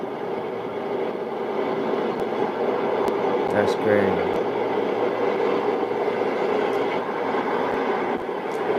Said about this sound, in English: Guess they had to wait on the train.